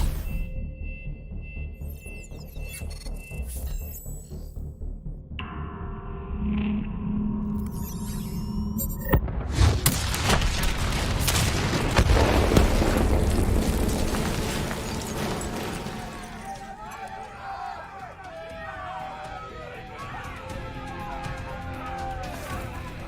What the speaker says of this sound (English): Detonate now!